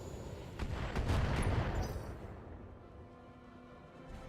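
Missile barrage striking a unit in a turn-based tactics game: a dense rumbling burst of rapid explosions and impacts rolls on for about two seconds, then fades into a low tail with no talk.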